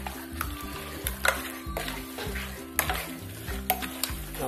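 Beef pieces for a Kannur-style beef dum biriyani are stirred in a pot, giving scraping, clinking strokes over a sizzling hiss with a low tonal backdrop that sounds like music.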